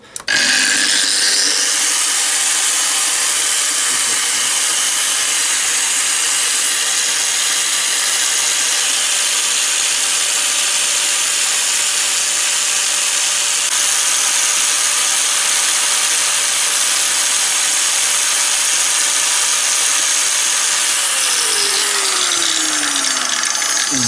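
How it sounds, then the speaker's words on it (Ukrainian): A Dnipro-M GS 140 SE mains angle grinder runs unloaded during a speed and gearbox-heat test, giving a loud, steady, close whine for about 21 seconds before it audibly spins down. "Зараз починаю. Е, краще не повторювати тести, але починаю я з Дніпром GS 140 SE."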